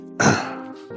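A single rough cough or throat clear bursts out close up, then trails off into a brief breathy tail.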